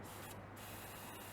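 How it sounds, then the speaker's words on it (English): Ammonia sprays through a paint gun during cleaning, a steady, faint hiss that runs without a break and carries a brief change in tone partway through. "and spray that ammonia through there"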